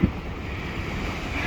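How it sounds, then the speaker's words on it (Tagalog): Strong wind and big sea waves at a fishing spot, a continuous loud roar of surf and wind buffeting the microphone, steady throughout with no talking. "ng hangin, napakalakas ng alon, delikado."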